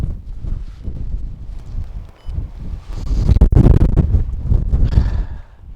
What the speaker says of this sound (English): I don't know if you can hear the wind or not.